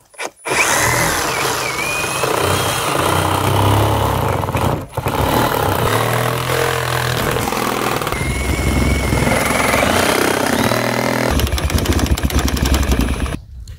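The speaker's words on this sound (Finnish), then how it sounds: "Tämä akkupuukkosahahan on ihan ehdoton peli semmosessa tilanteessa, missä joutuu metallia sahailemaan tai leikkaamaan ja on kipunoinnin vaara." A Hikoki cordless reciprocating saw runs almost continuously, a loud, close buzzing drone with a brief dip near the middle, used for cutting metal where sparks would be a risk.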